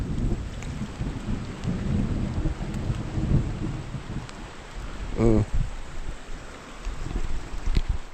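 Heavy rain pours steadily with low rumbles of thunder rolling underneath, outdoors in a barangay during a village visit, with a brief faint voice midway.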